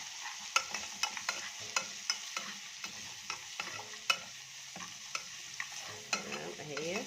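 Garlic fries in melted ghee with dried coriander under a soft, steady sizzle, while a spoon stirs and scrapes the pot in regular clinking strokes about twice a second.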